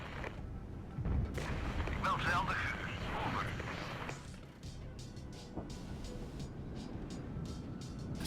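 Booming tank cannon fire and explosions in the Regiments war game, heavy blasts mixed with battle noise and lighter clicks, while someone talks over much of it.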